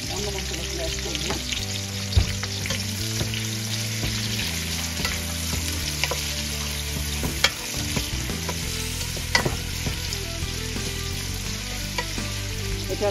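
Onions frying and sizzling in a pan during home-style Bengali cooking, with a steady hiss and repeated scraping clinks of a spoon stirring through them, close and continuous.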